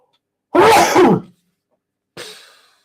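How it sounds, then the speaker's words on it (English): A single loud, close sneeze bursts out, followed after a pause by a quieter, brief exhale or sniff. "excuse me, I'm going to sneeze."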